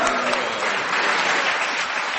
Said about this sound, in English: they applauded when you spotted it